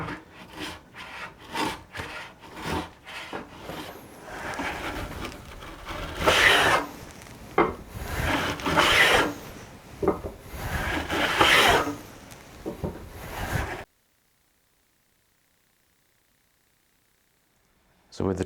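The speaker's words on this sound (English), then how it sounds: "I'm going to start at the far end of the board and just take small cuts and then work my way back" A tongue-cutting blade in a hand plane cutting tongues into a wooden board, with a rhythmic series of rasping strokes that lengthen and grow louder, then stop abruptly into silence; a voice talks over part of the cutting.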